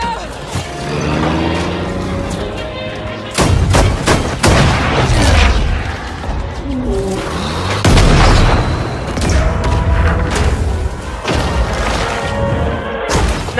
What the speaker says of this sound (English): those are World War II guns, right?